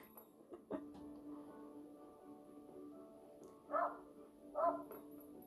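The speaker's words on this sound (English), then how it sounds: "my next door neighbor's dog is barking" A next-door neighbor's dog barking outside a window, two muffled barks late in the clip, faint and distant, over a low room hum.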